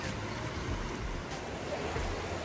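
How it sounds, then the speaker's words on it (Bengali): Steady rushing water from a babbling river flowing past a jungle campsite by the riverbank at sunrise, a constant broadband wash heard close and alone, with no talking. "নদীর কলকল ধ্বনি।"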